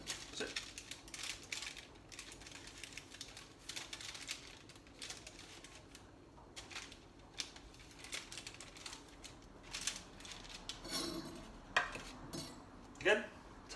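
Thin potato slices being laid into a baking tray for dauphinoise, heard as a run of light clinks, taps and soft slaps against the tray, close up and fairly busy, with a few louder metallic knocks toward the end.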